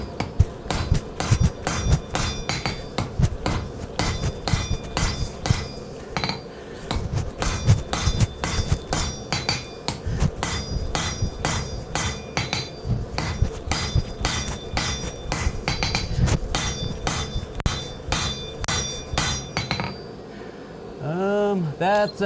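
Rapid, ringing hammer blows on hot Damascus steel on an anvil while forging a hunting knife with an integral guard, struck close and loud in steady runs with brief pauses and a ringing tail at the end.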